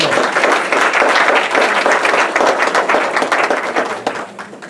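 A church congregation applauds children in a loud, sustained burst of clapping that fills the room, then gradually tapers off toward the end.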